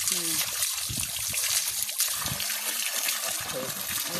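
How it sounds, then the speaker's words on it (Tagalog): Water pours steadily from a hose into a container, a constant loud splashing gush filling the whole stretch, with people talking over it. "Ayan ang tubig oh."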